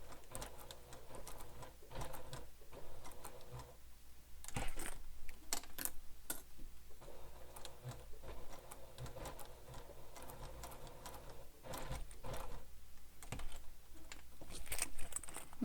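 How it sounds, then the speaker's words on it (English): A sewing machine stitches over earlier stitches on a handheld bag, producing quiet, rapid clicking runs broken by brief pauses and occasional sharper taps, steady and close. "I'm going to take my time and stitch right on top of those previous stitches"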